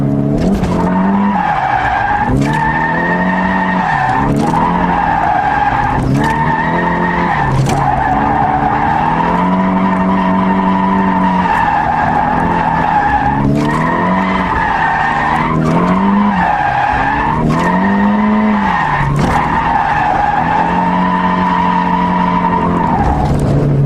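A race car drifting down a straight in a Manji drift, with a loud engine revving up and down in repeated cycles and long tire squeals and skids, close and continuous, no talking.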